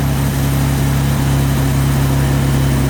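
A car engine that sat parked for years, now idling smoothly at about 1,000 RPM, gives a steady, loud, continuous hum with a low droning tone and no voices over it.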